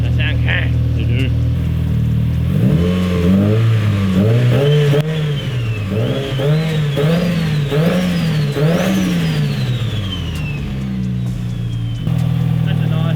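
A Mitsubishi EVO 7 with a forged 4G63 straight-four and a full titanium exhaust revs close by in a string of raspy blips that rise and fall, with a higher whine sweeping over them. Someone talks quietly underneath.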